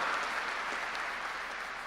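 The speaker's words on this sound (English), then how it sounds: "Give them a big round of applause." A graduation audience at Birmingham City University gives a brief, dense round of applause for lecturers and tutors, heard as a soft, even clatter from a large hall.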